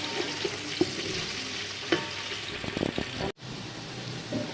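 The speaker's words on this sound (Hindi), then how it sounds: "तीन अदद प्याज लिए हैं, 3 बड़े प्याज लिए। प्याज को ब्राउन कर लेंगे।" Three large onions browning in a cup of hot oil for chana pulao, with a steady close sizzle and frying hiss punctuated by a few stirring clicks and scrapes, cutting out briefly near the end.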